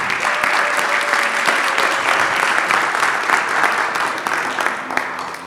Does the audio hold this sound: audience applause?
yes